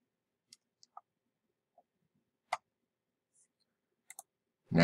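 Computer mouse clicks while working in webinar software, a handful of sparse, crisp single clicks in a quiet room before a voice begins.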